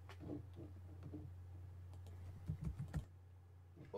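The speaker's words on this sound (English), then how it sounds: "That was me typing." A computer keyboard clatters with quick typing bursts, soft and close, over a steady low electrical hum, with a cluster of firmer keystrokes toward the end.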